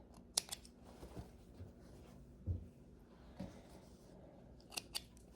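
Scissors cut apart pieces of towel fabric for a homemade pet bed, giving a few quiet, scattered snips and rustling handling noises with pauses between them, close by in an otherwise quiet room.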